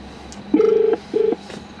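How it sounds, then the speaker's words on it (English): Two steady touch-tone dialing beeps from a phone paired to a 2013 Holden VF Commodore SV6 sedan's hands-free system, heard inside the car, the first longer than the second, over a quiet cabin hum. "So I've just asked the phone to give work a ring."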